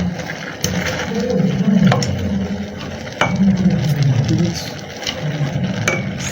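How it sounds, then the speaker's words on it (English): Wet stirring and scraping in a pot of afang soup with waterleaf, repeated in uneven strokes with occasional sharp clinks of a utensil against the side. "Let me mix it very thoroughly"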